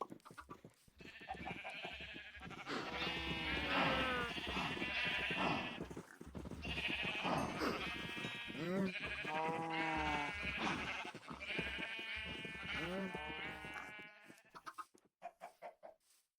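Minecraft farm animals, cows among them, bleating and calling in a steady overlapping chorus of repeated cries, loud and close, with brief pauses and a few scattered clicks near the end.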